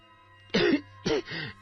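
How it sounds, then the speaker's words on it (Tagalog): Three rough throat-clearing coughs, one short burst then two joined ones, from a person struggling with something stuck in the throat, close and clear against a quiet background. "Sa muli niyang pag-ubo ay nailabas niya pa yon"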